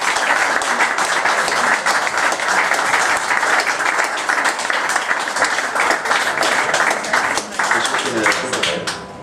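A live studio audience claps loudly and continuously at a beer-themed talk show, a dense wash of hand claps at close range that keeps going without pause before easing slightly at the end.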